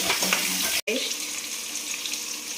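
One onion fries in oil for shahi paneer curry, a bright, steady sizzle that breaks off briefly, then resumes with a soft clatter and continues evenly.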